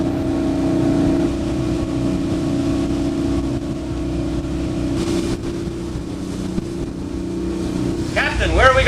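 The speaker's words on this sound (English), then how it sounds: "take a whale watch out of Gloucester Harbor with Captain Bill on this big boat" A steady, droning engine of a large whale-watching boat out of Gloucester Harbor hums throughout with wind buffeting the microphone, and a brief muffled voice rises near the end.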